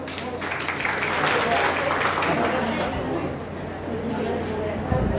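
An audience at a reunion of a 2001–2003 D.Ed. batch from Akola claps for Mangesh in a steady, moderately loud round of applause, with chatter in the room around it.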